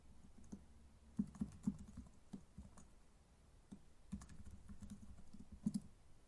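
Quiet, close typing on a computer keyboard, with scattered keystroke clicks that come in short bursts and pause between them. No one speaks.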